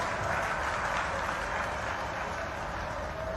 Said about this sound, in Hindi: आप जरा अपनी ताली वाली बजाकर गर्मी कम भी करो।